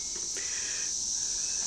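Brood X periodical cicadas fill the air with a steady, loud, high-pitched droning chorus that runs unbroken throughout, with no voices over it.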